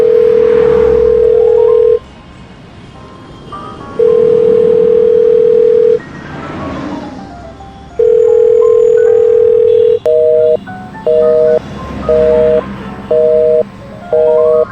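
A telephone ringback tone: long steady buzzes separated by pauses, then a quicker run of short double-pitched beeps, loud and close with nothing else over it.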